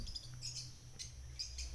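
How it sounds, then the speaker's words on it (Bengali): Pet birds such as lovebirds, cockatiels, java sparrows and conures in a bird shop, giving short high chirps and squawks over a low background hum, fairly faint with no voices. "তো এখানে অনেক পাখি আছে"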